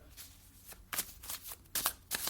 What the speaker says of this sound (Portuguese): Existem várias maneiras de embaralhar as cartas de um baralho